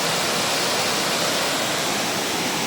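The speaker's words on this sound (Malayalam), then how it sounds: "മാമലക്കണ്ടം വെള്ളച്ചാട്ടം." Steady, loud rushing roar of the Mamalakandam waterfall, heard from close beside the falls, continuous broadband white-noise wash with no voices.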